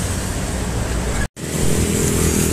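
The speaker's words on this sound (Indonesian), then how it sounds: "Wah, ini ada truk boys ini." A truck rumbles past on a road toward Purwokerto and Purbalingga with steady, loud broadband roar, a brief dropout midway, then continuing close engine and tyre noise.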